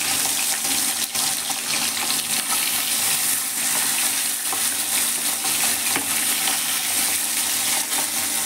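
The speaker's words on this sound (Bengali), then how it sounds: "এখানে আমি সর্ষের তেলে মাছ ভাজছি, তো তেলটা গরম হয়ে গেছে" Fish fries in hot mustard oil in a wok, giving a loud, continuous close sizzle and crackle that runs steadily throughout, with no talking.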